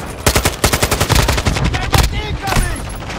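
Rapid bursts of assault rifle fire in Modern Warfare 2 multiplayer, loud and close, a quick string of sharp shots crackling in fast rhythm, then a few more scattered shots after a short pause.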